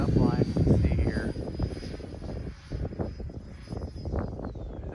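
A Freewing T-33 RC model jet passes overhead with a rising and falling whine, swelling early and fading out, while a person talks over it in the open air.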